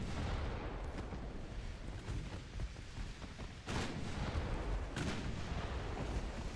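Naval gunfire and a torpedo detonation in the warship strategy game Ultimate Admiral Dreadnoughts give a low, rumbling wash of distant booms, with a couple of sharper blasts standing out.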